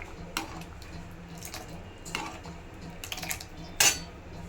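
Cooked chole masala is served onto a plate with a few light clinks and scrapes of a spoon against the dish. The taps are scattered and close, and one sharper knock comes near the end.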